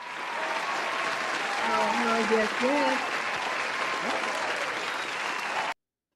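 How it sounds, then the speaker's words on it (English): A studio audience at a self-help book talk show gives a steady round of applause to welcome a guest. The clapping is loud and continuous, a voice speaks briefly over it, and it cuts off abruptly. "Let's give it a round of applause"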